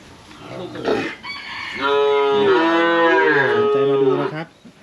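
At a Thai cattle market for cows and calves, a loud, close cow gives a long, drawn-out moo lasting about three seconds, after shorter bovine sounds and faint background noise.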